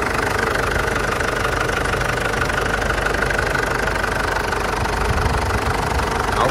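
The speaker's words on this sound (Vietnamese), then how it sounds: "Để em nổ máy cho anh em coi nha." A 2007 Isuzu Hi-Lander diesel engine idles steadily with a constant, slightly knocking rumble, close and unchanging throughout.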